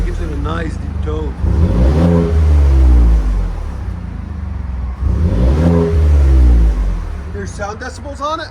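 A 2020 Ford F-150 with a 3.5L EcoBoost V6 and Gibson exhaust revs twice up close, each rev a deep rising roar that falls back to idle, with brief talk near the end.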